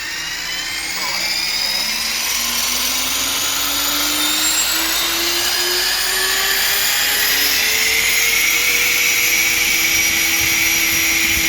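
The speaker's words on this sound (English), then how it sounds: "let me just click the throttle hold here and let it run for a second." An Align T-Rex 500X RC helicopter spins up on a bench, its rotor and motor whining loudly with a steadily rising pitch and a constant close-up whirring hum.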